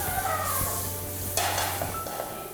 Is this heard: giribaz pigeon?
no